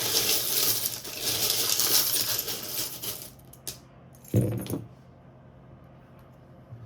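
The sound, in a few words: tarot charms being stirred and jangling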